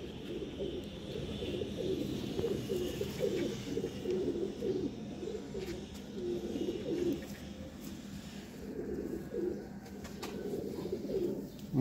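Teddy pigeons coo on a rooftop in Sialkot, a dense, continuous chorus of low, rolling coos with no one talking.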